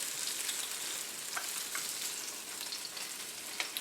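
A tuna steak sizzles in a hot pan, a dense, continuous frying hiss with small crackles and pops throughout, close and steady.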